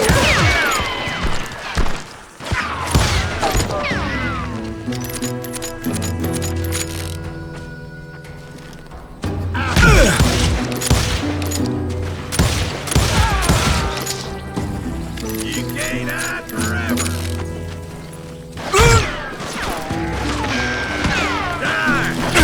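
Repeated gunshots in the Western shooter game Call of Juarez: Gunslinger, loud sharp cracks in bursts over game music and effects, with brief shouted voices.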